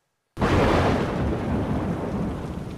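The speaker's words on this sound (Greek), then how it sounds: "Ισχυρές καταιγίδες και θυελλώδεις άνεμοι σαρώνουν από το πρωί πολλές περιοχές της Δυτικής Ελλάδας" Heavy rain and a broad, sustained thunderstorm roar during severe storms with gale-force winds in western Greece, bursting in loud and close after a brief silence and holding steady throughout.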